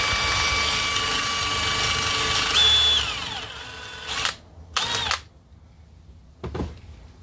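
A drill press drills metal at close range, whining steadily, its pitch shifting partway through, then stops and gives way to a few short bursts of drilling.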